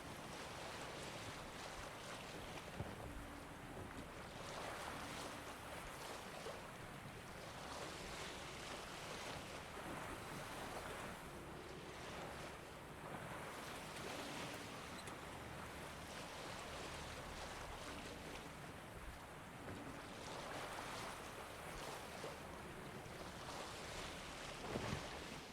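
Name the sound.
boat sailing on Skellige sea waves, video game The Witcher 3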